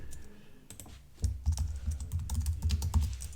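Fingers typing code on a computer keyboard, a sparse tap or two at first, then a quick, dense run of close key clicks with irregular rhythm, no voices.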